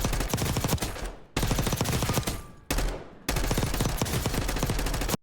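Long-range weapon firing at the Black Ops 6 firing range: loud, close, sustained automatic fire in four rapid bursts separated by short pauses, with no talking.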